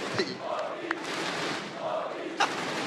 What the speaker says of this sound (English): You're getting the cheers.